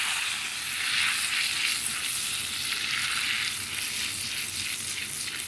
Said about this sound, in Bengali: এই মাখনটার উপর দারচিনিটা ফোড়ন দেব।